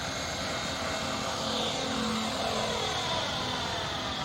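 An F5B model airplane takes off at Mission Bay, heard as a steady, loud propeller whine and drone that holds continuously throughout.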